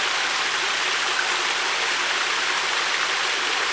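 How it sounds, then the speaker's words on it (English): A small waterfall at Rainbow Springs State Park rushes in a steady, dense white roar close by, unbroken throughout and with no voices. "Looks like we found a mini waterfall."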